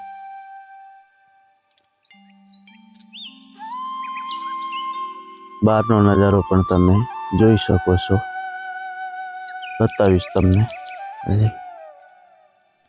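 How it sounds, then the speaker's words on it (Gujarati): Birds chirp and whistle outdoors in the dark early morning near neem trees, with clear, thin tonal calls rising and falling throughout while a person talks over them in the middle and later parts. "એવો પક્ષીનો અવાજ આવી રહ્યો છે"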